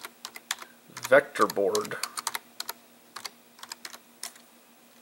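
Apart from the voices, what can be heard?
typing on a computer keyboard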